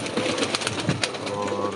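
Pigeons coo softly in a short, close burst of rolling calls, with faint rustling and a hint of a voice in the background on a rooftop loft where broad-winged fancy pigeons are kept.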